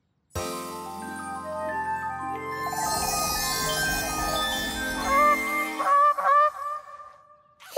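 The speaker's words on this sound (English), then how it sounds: "It's the swan." A swan gives a series of loud, nasal honks close by, the calls rising and overlapping over several seconds, followed by a few sharper squawks near the end.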